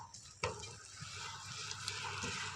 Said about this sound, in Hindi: अब हम इसको मिक्स कर लेंगे अच्छे से।